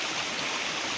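A small waterfall or spring stream beside a mountain path in Kinnaur, Himachal, rushes in a steady, close, broadband wash of water with no break.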